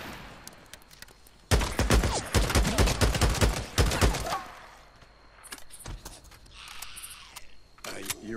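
Rapid gunfire in the video game Days Gone, a dense loud burst of automatic shots lasting a few seconds, followed by scattered single shots and quieter game noise.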